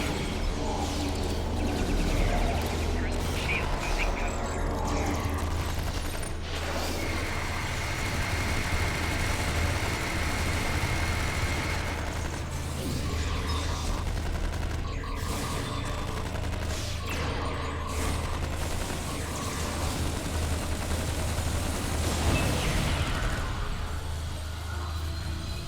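Weapon fire in the video game Star Trek Online: a dense, continuous barrage of shots and blasts over a steady low mechanical hum, with occasional louder bursts.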